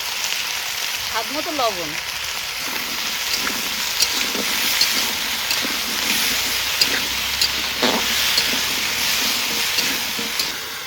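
Chunks of taro and carrot fry in a pan, a continuous close sizzle with scattered pops and crackles, while someone speaks briefly over it.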